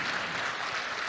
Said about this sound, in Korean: 여러분 따뜻한 박수 부탁드리겠습니다